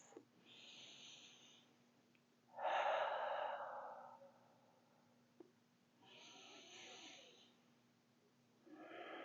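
Slow, breathy exhales through the mouth during a quiet seated yoga stretch, three long soft breaths spaced a few seconds apart, close and gentle with no talking.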